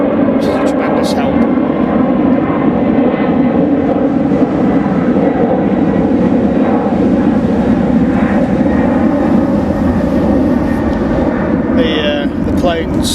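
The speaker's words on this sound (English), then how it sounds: "The planes finally stopped about 11:30." Aircraft fly over Wraysbury North Lake during a carp fishing trip, producing a loud, continuous rumbling roar that fills the whole stretch, with a few faint chirps and clicks near the end.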